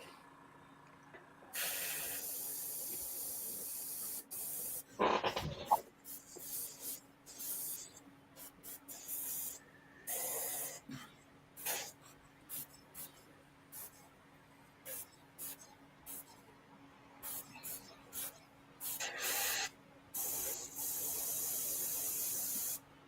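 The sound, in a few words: spraying black paint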